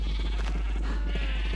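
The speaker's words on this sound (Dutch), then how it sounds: "Kijk hoeveel schapen" Sheep in the Minecraft video game bleat in a short burst of wavering cries over a low steady hum, close and fairly loud.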